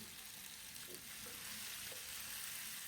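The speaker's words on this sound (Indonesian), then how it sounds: "Ditumis dulu bumbu ini sampai wangi, sampai matang." Spice paste for seblak sautés in hot oil in a pan, giving a steady close sizzle and crackle with a few faint stirring clinks, and no talking.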